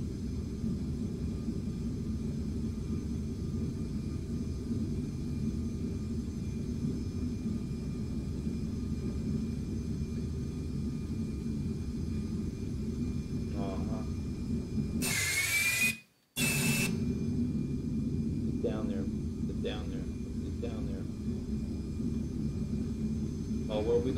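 Cockpit of a Carenado Premier 1 business jet descending in Flight Simulator X, a steady low engine drone and hum throughout, broken once by a short sharp electronic blip and a brief dropout, with faint clicks afterward.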